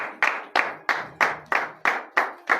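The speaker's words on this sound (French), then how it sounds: "levez-vous et donnez de vives acclamations à l'Éternel" A church congregation at a morning prayer service in Benin claps in steady unison, about eight sharp rhythmic claps roughly every third of a second, loud and close with no voices over them.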